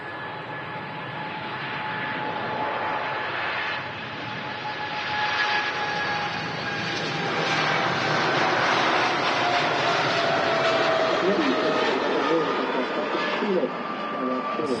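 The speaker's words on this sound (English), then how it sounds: "The Turkish Airlines 777. What a huge aircraft to operate that particular route." A Turkish Airlines Boeing 777 jet at Manchester Airport gives a broad, steady roar that slowly builds in loudness with a faint falling whine, heard from a distance at the airfield.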